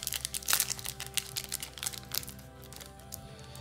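Foil wrapper of a Pokémon Astres Radieux booster pack crinkles and tears as it is ripped open, a close burst of sharp rustling that eases into softer, scattered crackles.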